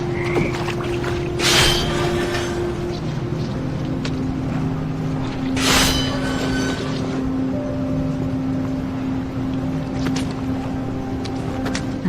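Toads croak in a dark labyrinth setting in What Remains of Edith Finch, a steady low droning bed with a few louder bursts rising over it, no voices present.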